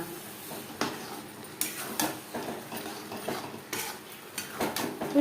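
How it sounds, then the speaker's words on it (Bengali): Chicken ghugni stirred in a pan after tomato sauce goes in, a utensil scraping and clinking against the metal in irregular strokes, close and fairly quiet, with no voices. "বেশ ভালো করে মিক্সড করে দেবো।"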